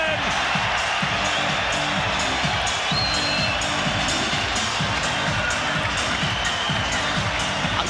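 A packed boxing crowd in Dublin roars and cheers as the fight is stopped, a dense, sustained wall of noise with shouts rising through it and no letup.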